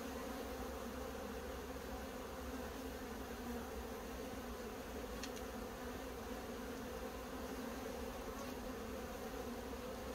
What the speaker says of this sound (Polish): Pszczół też dużo.